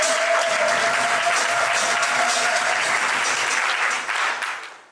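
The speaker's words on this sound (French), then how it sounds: "Vos applaudissements, mesdames et messieurs." Guests at a civil wedding ceremony clap loudly and continuously, a full room of hands with a faint sustained tone underneath, before the applause tapers off in the final second.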